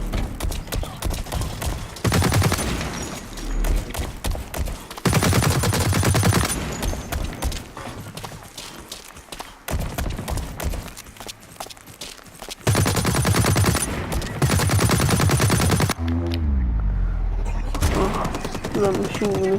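Rapid bursts of machine gun fire from the PS4 shooter BlackLight Retribution during a team deathmatch, loud and close, coming in several long sustained volleys broken by short pauses, with a voice talking in between.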